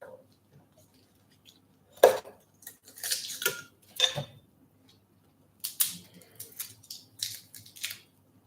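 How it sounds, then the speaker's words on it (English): A knife chops garlic on a cutting board in a home kitchen: a few scattered, sharp clacks and scraping cuts in uneven bursts, fairly close, with quiet gaps between. "I'm breaking the skin here as I chop off the end"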